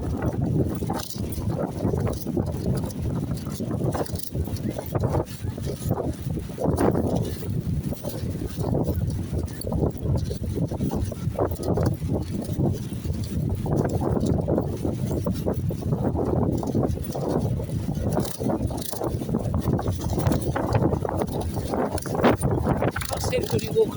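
Strong wind gusts across the Blackpool seaside promenade on a blustery August day, a constant rumbling buffet against the microphone, with people talking throughout.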